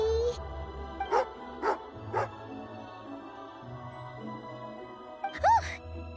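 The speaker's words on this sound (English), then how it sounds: "angry doggy" A dog in the game Genshin Impact gives a few short, sharp barks and yips early on and another near the end, moderately loud, while a voice talks in between.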